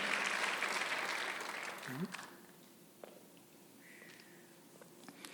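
A church congregation claps loudly together at first during a Sunday service, and the applause thins out and fades within a few seconds. Faint voices follow.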